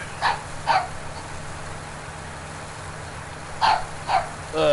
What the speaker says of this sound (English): I'm going to kill a dog.